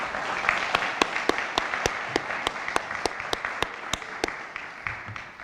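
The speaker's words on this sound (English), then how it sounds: "So let's please give them a round of applause." An audience applauding a round for gracious event hosts: a steady, fairly soft bed of many hands clapping, dotted with sharper individual claps standing out near the front, continuing evenly throughout.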